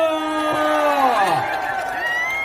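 Outdoor festival crowd at the Wando seafood festival cheering and whooping for a singer, a loud dense roar of voices with rising shouts sustained throughout.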